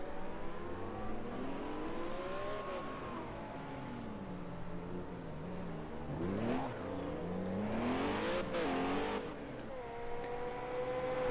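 Race car engine in a racing video game, set in a championship freedrive, revving and shifting pitch continuously with a tire-sliding squeal into a chicane around the middle, loud and steady throughout.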